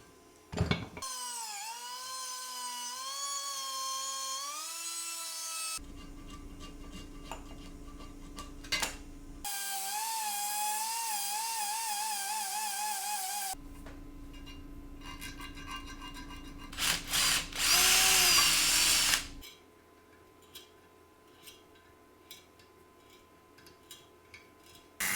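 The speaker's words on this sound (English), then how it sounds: "I'm going to see if I can grind that out and slather some braze in there" A grinder working a broken hole in the cast motor bracket of a 1942 Delta drill press, heard in several loud sustained whining bursts with shifting pitch and abrupt cuts between passes, followed by lighter scattered clicks.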